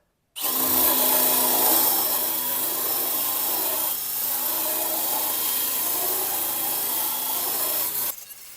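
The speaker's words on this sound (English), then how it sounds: "we're going to clean all this up with the wire wheel" A wire wheel scours rust from the floor pan of a 1971 Chevrolet Nova, a loud, steady abrasive whir and scraping that runs continuously for about eight seconds, then stops abruptly.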